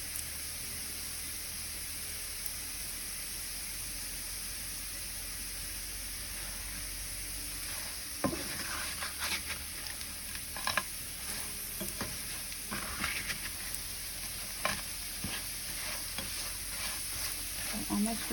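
Chilaquiles sizzling steadily in a frying pan with a constant hiss, joined midway by intermittent scraping and clacking as a utensil stirs them, fairly quiet and close.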